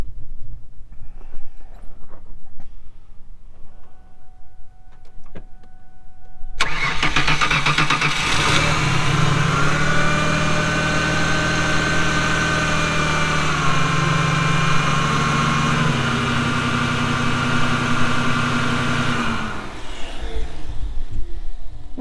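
A car engine is started for a charging-system test with a battery tester. Quiet background gives way to a sudden crank and catch, then a steady, loud mid-pitched idle that holds for about twelve seconds before cutting off.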